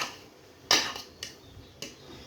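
Metal spoon knocking and scraping against a cooking pot while drumstick leaves are stirred: three clear clinks spaced about half a second apart, close and fairly quiet, with no talk.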